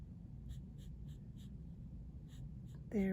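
Colored pencil scratches across paper in short, soft rhythmic strokes while shading a honeybee drawing, quiet and close, ending with a brief louder sound.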